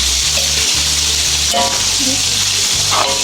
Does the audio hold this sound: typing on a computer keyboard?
no